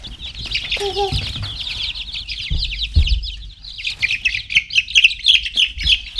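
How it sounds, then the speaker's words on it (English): Baby chicks peep in a busy, high-pitched chorus of rapid overlapping chirps at close range, with brief voices and a few handling knocks mixed in. "You see all the baby chickens?"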